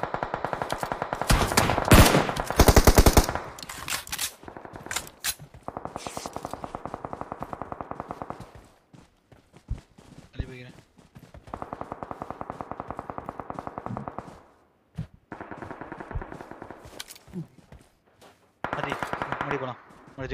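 Bursts of automatic gunfire in the battle royale game PUBG, loud rapid volleys early on, then repeated shorter sustained bursts separated by gaps, with players' voices talking over the action.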